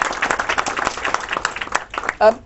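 An audience at a London ceremony for Somali students breaks into applause, a dense patter of many hands clapping close and steady for a couple of seconds before a brief louder burst at the end.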